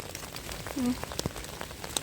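Steady light rain patters in a German forest in winter, with scattered drips and taps close by. A brief faint tonal sound comes through partway.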